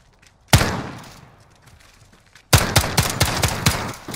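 Video game gunfire in a shoot house: a single loud shot with a long decaying tail, a pause, then a rapid burst of about six sharp close shots.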